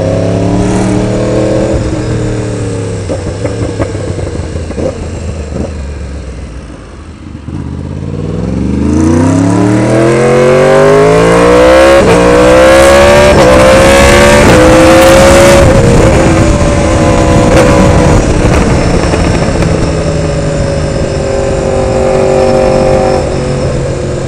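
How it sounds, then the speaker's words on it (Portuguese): A 2016 Yamaha R1 sport motorcycle roars loudly up close on a ride, its engine rising through several gear changes with long climbing revs, a brief dip, then sustained high-pitched wailing at speed. "teve o prazer de escutar essa moto roncando, a R1 roncando lá"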